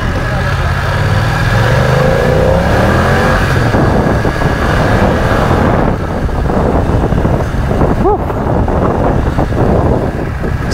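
A BMW F900 R sports motorcycle accelerates hard in second gear, its engine roar blended with heavy wind rush over the microphone, loud and continuous throughout.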